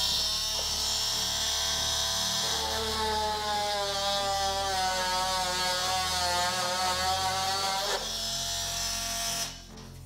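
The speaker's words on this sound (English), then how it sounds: "To cut the plastic, I think we'll be able to cut it with an oscillating tool." An oscillating multi-tool cuts through plastic while repairing the rear LED tail light of a BMW E70, giving a steady, loud buzzing whine with shifting harmonics for nearly ten seconds before tapering off near the end.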